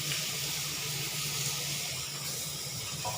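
Vegetables are washed under a running kitchen tap, a steady close hiss and splash of flowing water that continues unbroken throughout, with no voices.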